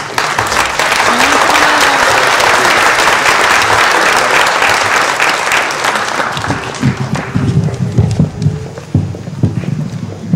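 An audience at a lecture applauds for speaker Sabir Bey with loud, dense, sustained clapping that thins out after about six seconds, leaving scattered claps and faint voices.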